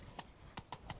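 Roach the horse's hooves in The Witcher 3 clip-clop four times in a quick, uneven rhythm, soft and close over a faint background.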